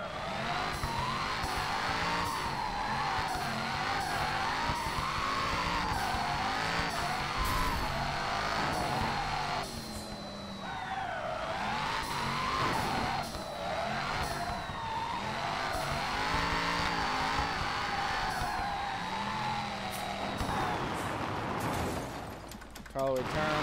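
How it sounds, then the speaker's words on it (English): A car drifts with tires skidding continuously, a sustained high screech rising and falling with steady engine roar, while a person talks over it throughout. "now we're getting into a good drift"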